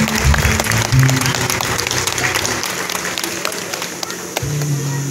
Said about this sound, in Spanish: Y ese aplauso fuerte, que se escuche